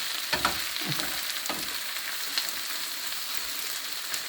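Oil bubbles and sizzles steadily in a pan in a village kitchen, a continuous close frying hiss with a few brief utensil clicks and stirring scrapes near the start.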